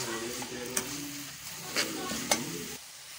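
Fried soya chaap soaked in yogurt being stirred into masala in a pan, with a close sizzle and a few sharp scraping clicks of the spoon before the sound stops abruptly near the end.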